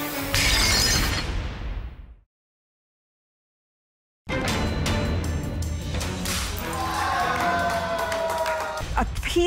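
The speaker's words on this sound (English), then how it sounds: "I made an announcement that there would be plate smashing." Ceramic plates smash at a wedding: a loud, close burst of shattering fills the first two seconds, then silence, then a steady crowd roar with cheering and a second crash near the end.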